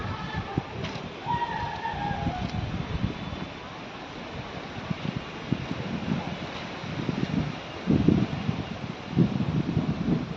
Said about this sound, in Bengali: কত সুন্দর হাওয়া চলছে এদিকে এখন